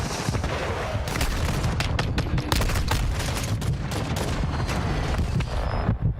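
Mortar strike explosions in Call of Duty Warzone crack and boom in a rapid, dense barrage, loud and continuous over several seconds with overlapping blasts.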